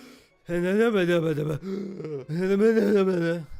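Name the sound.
imitated heavy breathing into the mic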